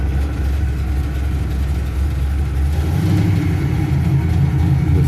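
A 1972 4-bolt 355ci V8 with a roller cam, built for more than 550 horsepower, idles loud and close with a steady deep rumble and no one talking.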